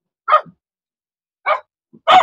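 A dog barks three times in sharp, separate bursts with pauses between, fairly close and loud, the last bark the strongest.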